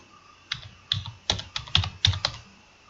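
Close, crisp keystrokes tap on a computer keyboard during a coding session, landing in an irregular burst of separate clicks with short pauses between them and no talking.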